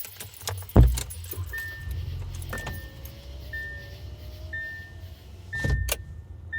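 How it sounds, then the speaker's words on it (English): Keys jangle inside a car, with several sharp metallic rattles near the start and again later. A thin electronic tone repeats under a steady interior hum, and no one talks. "I'm not gonna hold my keys because I'm gonna be messing with them the entire time."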